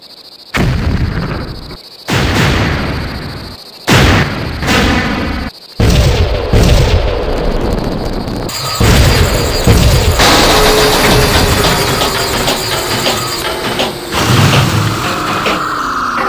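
An artillery gun fires in a War of the Worlds audio drama. Several loud, close booms arrive in quick succession, followed by a sustained roaring rumble of continued gunfire and blasts.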